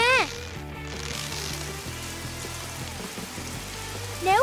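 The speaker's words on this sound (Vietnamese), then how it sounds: "Để ngăn cháy rừng, Annie phải túm lấy đám mây gần đó và bắt mưa ra." Rain from an animated cartoon, a cloud wrung out to douse a forest fire, falls as a steady wash of patter for several seconds, bracketed by short rising whooshes at the start and end.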